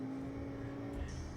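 Engine drone of a car in the driving game Automation, a steady, fairly quiet hum holding one pitch with a faint higher whine near the end.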